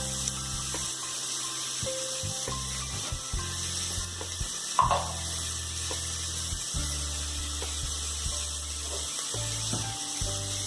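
Onions with green chilli and a little salt sautéing in a pan for a Kerala kadala curry, a soft steady sizzle under scattered clinks and scrapes of a stirring spoon, close by.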